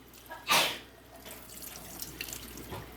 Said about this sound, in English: So just with cold water running, you'll just go ahead and fill that up.